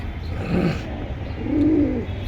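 Pigeons at a pigeon market giving two soft, low coos, one after the other, close and moderately loud over a steady background hum, with no talking.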